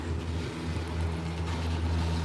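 A steady low mechanical hum and drone, continuous and moderately loud, like cable car machinery running as gondolas pass by at a Disney resort.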